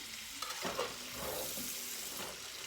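Bacon sautés in a pan with a faint, steady hiss and sizzle, broken briefly by a couple of soft stirring scrapes. It is quiet and continuous, with no talk.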